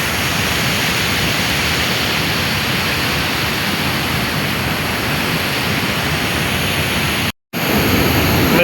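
Water pours over the Maswan weir on the Shirya river in a loud, continuous broadband rush that briefly cuts out once near the end, with no talking.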